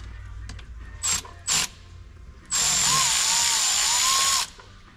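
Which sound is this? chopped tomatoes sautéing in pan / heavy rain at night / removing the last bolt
removing the last bolt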